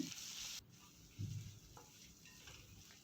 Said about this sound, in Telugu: మనం దంచి పెట్టుకున్న అల్లం వెల్లుల్లి పేస్ట్ను వేసుకొని పచ్చివాసన పోయేలాగా కొద్దిగా ఫ్రై చేసుకుందాము.